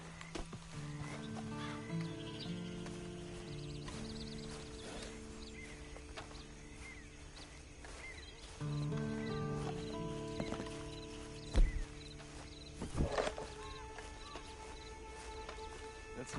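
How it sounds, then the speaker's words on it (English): Horse in the video game Red Dead Redemption 2, soft clip-clop hoof steps and snorts, with a whinny, under game music and ambience, with a couple of sharper thuds toward the end. "Then you better get on this horse."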